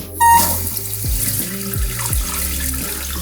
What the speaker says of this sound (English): when I turn the water on, this is actually gonna run at a lot higher of a pressure, and that's because it's a new fill valve